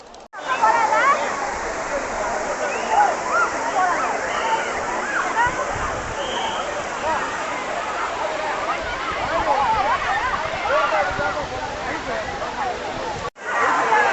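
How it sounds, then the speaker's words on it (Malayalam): A waterfall running after two days of rain gives a loud, continuous rushing roar close by. Faint background voices sit under the water, and the sound breaks off briefly near the end. "ഇപ്പോൾ വാട്ടർഫോൾസിന് അവിടെ നിന്ന് മാത്രമാണ് ഇത്തിരി വെള്ളം വരണത്"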